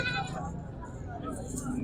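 Goats and sheep at the Korangi livestock market in Karachi give a few bleats over a noisy background of crowd babble and nearby voices.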